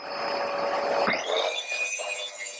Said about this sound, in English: I lowered the blade to 20 millimeters and cut through this 18 millimeters plywood